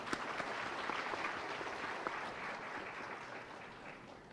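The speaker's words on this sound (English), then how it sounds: "So maybe one round of applause for our distinguished guests." A seated audience at a health policy conference gives steady applause for distinguished guests. The clapping is fairly faint and even throughout, with no voices.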